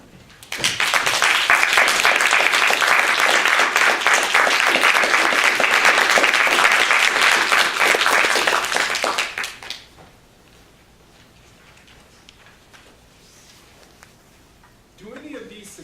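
An audience applauds loudly and steadily for about nine seconds to welcome a speaker at a speech event, then the clapping fades into quiet room noise with a brief voice near the end.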